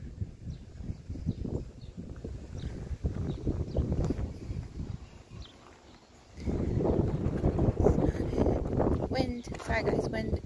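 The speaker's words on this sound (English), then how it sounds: "Wind. Sorry, guys. Wind." Gusty wind buffets the microphone outdoors at a burial site, rumbling loud and close in long surges. There is a brief lull before it rises again, with faint bird calls in the background.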